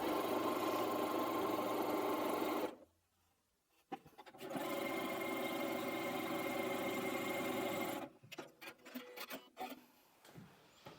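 A sewing machine stitches the final seam of a Bargello quilt, running steadily and close for several seconds, pausing briefly, then running again before stopping amid light handling noises.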